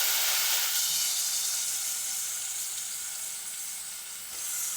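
Chopped onions sizzle loudly in a hot pan for a tomato coconut curry, a bright, constant hiss that eases slightly before swelling again, with no talking.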